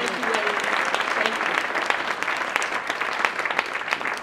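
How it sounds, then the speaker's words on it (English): Audience applause at the Harvest Girls White Party Gala fills the room, a dense, steady wash of clapping from many hands that holds at an even loudness, with faint voices mixed in. "Give these ladies another round of applause."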